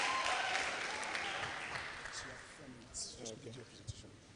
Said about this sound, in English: Put your hands together for him. The more you clap, the faster he comes.